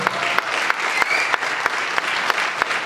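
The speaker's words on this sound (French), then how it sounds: "Et on applaudit le réalisateur" An audience at the Mobile Film Festival Africa awards ceremony claps for a young film director, a steady, lively crowd applause with a few sharp accented claps.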